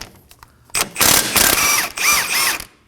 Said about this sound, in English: on the other side, we're going to use a 19mm socket to remove the bolt